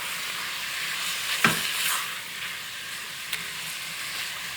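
Lamb rogan josh sizzles steadily in a pan as a teaspoon of Kashmiri chili powder is stirred through, with a couple of sharp utensil knocks over the continuous frying hiss.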